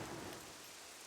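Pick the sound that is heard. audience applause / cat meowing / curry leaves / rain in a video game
rain in a video game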